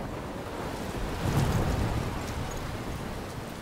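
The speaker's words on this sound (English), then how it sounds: "I'm trapped in a storm?" Stormy weather in the video game Life Is Strange, a steady broadband roar of wind and rain like crashing surf, swelling slightly in the middle and continuing without pause, with no clear thunder clap.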